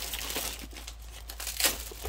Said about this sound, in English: you are going to hear a little bit of crinkle wrinkle because some of them come rolled up and some of them come folded in half